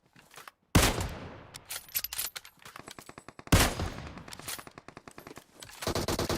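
Bursts of automatic gunfire from PUBG Mobile crack out close and loud in rapid strings, separated by short gaps, with a final rattling volley at the end and no talk.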